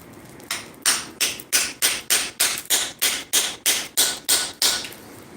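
A hammer striking a chisel while forging a small metal mouse, about a dozen sharp ringing blows in a steady, evenly spaced rhythm, close and loud with no talk.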